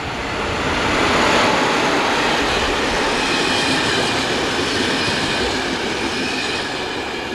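A train rumbles past steadily at close range, a broad continuous roar of wheels and cars that swells early and holds for several seconds.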